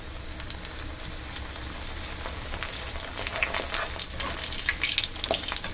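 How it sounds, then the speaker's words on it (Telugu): Cabbage vada deep-frying in hot oil, a steady bubbling sizzle with crackling pops that thicken toward the end, close and continuous with no voices. "కొంచెం ఇటుపక్క వేగిన తర్వాత మనం రివర్స్ చేసుకుంటాం. నూనె బాగా కాగిందేమో."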